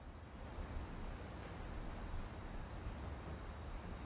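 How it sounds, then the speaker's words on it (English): Ocean waves off the Washington coast in the game What Remains of Edith Finch wash in a steady, low roaring surf, with a continuous windy rush and no distinct breakers or talk. "40-foot waves off the coast of Washington send the house and Odin to the bottom of the sea"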